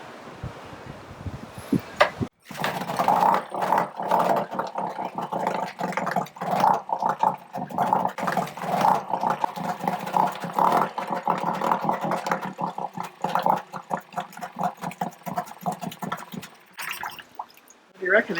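A car engine cranks and catches with the choke off, then settles into a loud, rough, rhythmic idle close by while people talk over it.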